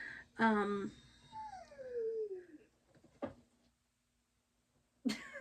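A puppy whimpers with high, whining cries and a short sneeze-like snort, close and fairly quiet, with pauses between sounds.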